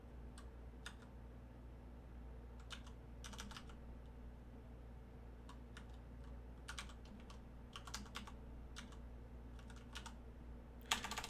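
Linux commands are typed on a computer keyboard in a quiet room, with short uneven bursts of soft key clicks over a low steady hum, faint and close, with no talking.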